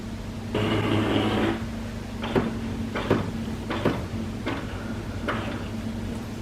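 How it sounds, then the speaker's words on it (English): An HP Envy Inspire 7255e all-in-one printer powers up, with a steady mechanical whir followed by a series of spaced clicks and clunks from its internal mechanism, moderately loud and close, with no talking. "You can see that once the power is turned on at the wall socket, the printer will power up."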